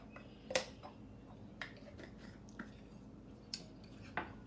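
A utensil clinks against a bowl while ingredients are mixed by hand in a kitchen: a handful of light, irregular taps and scrapes over a quiet room tone.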